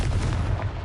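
A Confringo fire spell blast in Hogwarts Legacy, a short loud booming burst with a rumbling low end, heard close and alone.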